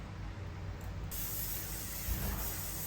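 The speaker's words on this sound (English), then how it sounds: "I am going in with my Morphe continuous setting spray first, and then my Sephora setting spray" Morphe and Sephora setting sprays misted onto a face: a close, steady hissing spray that runs for a few seconds without a break and gets brighter partway through, with no talking.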